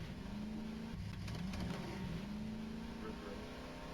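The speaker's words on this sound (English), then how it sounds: "I worry that the ATV engine's gonna drown you out." An ATV engine in the video game Voices of the Void drones steadily with a low hum and faint revving throughout, heard at moderate level under a continuous background wash.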